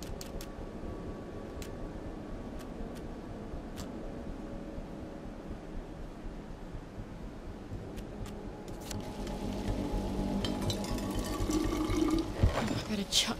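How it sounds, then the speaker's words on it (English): A canteen being filled with water in the game We Happy Few, a steady trickling, running stream that grows louder and splashier toward the end, with someone speaking over it. "I just shove my canteen in there and hope it doesn't burn my hand off."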